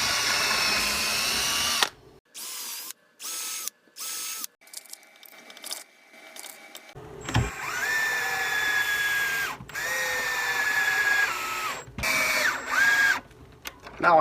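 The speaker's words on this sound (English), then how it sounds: "Pre-drilling takes a little more time, but I think you get better results in the end." A power drill pre-drills screw holes in hardwood for a saloon-style garden gate, running in several short, close whining bursts separated by brief pauses, with ratcheting clicks between them.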